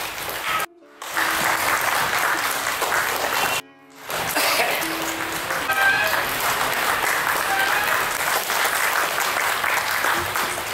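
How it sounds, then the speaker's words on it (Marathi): Audience at a public lecture and award ceremony for Ahilyamai Holkar's birth anniversary clapping to welcome guests, dense, sustained applause filling the hall, briefly interrupted twice by short gaps. "सर्वांनी जोरदार टाळ्या वाजवून पाहुण्याचं स्वागत करायचं आहे."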